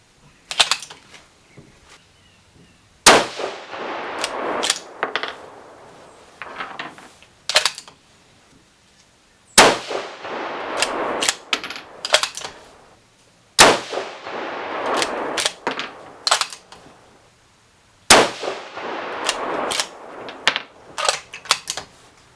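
A 6mm Creedmoor rifle firing 108-grain Berger loads in a five-shot group, loud sharp cracks spaced several seconds apart, each followed by metallic clatter and handling noise of the action being cycled between shots.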